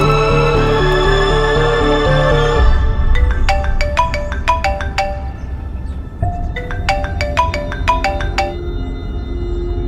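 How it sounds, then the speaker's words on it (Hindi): A repeating electronic ringtone melody plays in bursts after a brief musical passage, steady and fairly loud with a low hum underneath. "जीजी, सोनाक्षी को फोन करने जा रही हैं।"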